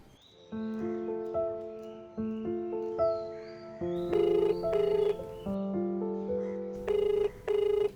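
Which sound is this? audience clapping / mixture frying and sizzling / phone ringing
phone ringing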